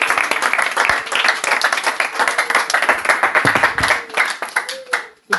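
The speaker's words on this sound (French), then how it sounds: "Applaudissons pour notre Seigneur." A church congregation applauds in dense, steady clapping for several seconds, with a few voices mixed in, before the clapping thins out near the end.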